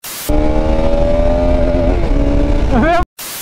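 A Bajaj Pulsar 200 motorcycle (RS 200 2025 or NS 200 2024) roars at a drag race, a loud steady engine drone that climbs sharply in pitch near the end before cutting off abruptly.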